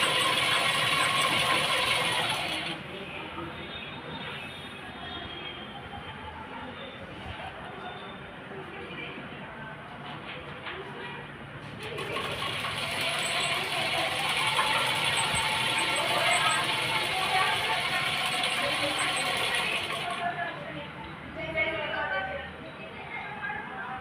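Sewing machine stitching a plain suit at home; bursts of rapid mechanical clatter and whirring, louder at the start and again in the middle, with someone talking throughout.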